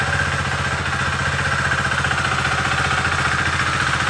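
Husqvarna Svartpilen 401 motorcycle engine idling close by, a steady, rapid low pulsing putter that stays even for several seconds, with no talk.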